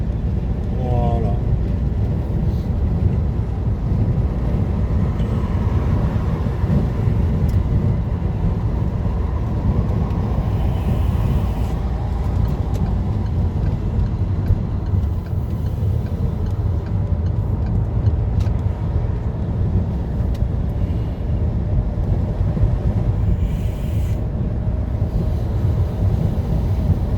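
A car driving on the N10 close behind a tanker truck, a steady loud road and engine rumble with wind noise throughout as people talk inside the vehicle.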